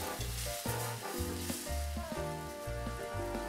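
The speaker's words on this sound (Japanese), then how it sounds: "フライパンがよく温まったのを確認してゆっくり卵を入れていく。" An egg slid into a well-heated frying pan while making rolled omelette, giving a steady close sizzle with crackling texture running throughout, alone without voices.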